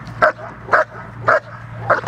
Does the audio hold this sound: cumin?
no